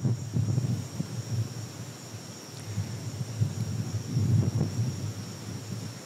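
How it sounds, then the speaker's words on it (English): Strong southeast monsoon wind blows through the night at a steady roar, with low rumbling gusts that swell and ease throughout and a faint high insect-like whine running continuously above it. "This is the sound of our monsoon wind, the southeast monsoon that blows really strongly this time of year"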